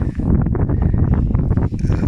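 Wind blowing onto a microphone outdoors produces a steady, loud buffeting rumble with gusty surges throughout. No voices are heard.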